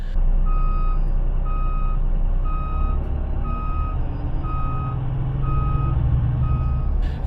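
A Translink Goldliner coach reversing off its stand sounds a steady series of evenly spaced warning beeps over the low rumble of its diesel engine, with no talking.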